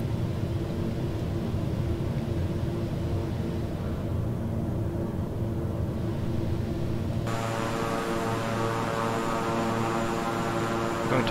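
A King Air 350i twin-engine propeller aircraft in Microsoft Flight Simulator drones with a steady, loud, even hum; partway through, the engine tone steps up and grows brighter with throttle, with no talking.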